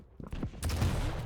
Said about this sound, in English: k1llsen is releasing a rail shot